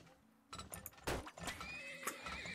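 A horse in the video game Turmoil neighs in a sharp whinny over clip-clopping hooves, brief and fairly close.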